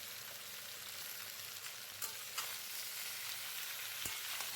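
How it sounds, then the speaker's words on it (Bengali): Boiled jackfruit and potatoes with turmeric and salt fry in oil, a soft continuous sizzle with occasional stirring clicks and scrapes, fairly quiet and without voices. "হলুদ আর নুন মিশিয়ে আমি এঁচড়গুলোকে তেলের মধ্যে একটু ভালো মতন ভেজে নেব।"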